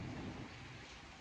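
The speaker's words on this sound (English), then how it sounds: "You can hear the thunder in the background." Thunder rumbles low under steady rain during a Sydney spring storm, loudest in the first half-second and then easing into a continuous wash of rainfall.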